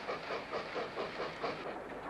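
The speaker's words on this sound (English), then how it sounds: "92238 banks a train towards Aberdeen." BR 92238 steam locomotive banking a heavy train on a Welsh line toward Aberdeen, a steady rhythmic rumble with repeated chuffing pulses and clattering wheels, continuous and fairly close.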